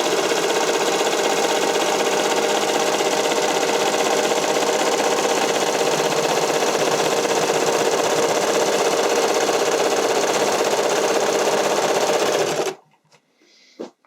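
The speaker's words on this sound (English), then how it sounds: "basically let the serger do the work" An overlocking serger runs continuously at high speed while stitching a lettuce edge hem on stretched spandex for a figure skating dress, a loud close mechanical whir that stops abruptly near the end.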